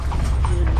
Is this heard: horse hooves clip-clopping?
yes